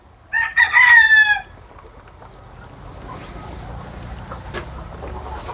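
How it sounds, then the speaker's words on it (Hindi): A desi rooster crows once, loud and close, in a poultry farm shed, drawing out the call for about a second. After it fades, a low murmur of hens and farm background carries on quietly. "इधर देखिए, ये मुर्गे का शेड है सारा।"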